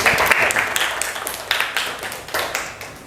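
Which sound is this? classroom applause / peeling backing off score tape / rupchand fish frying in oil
classroom applause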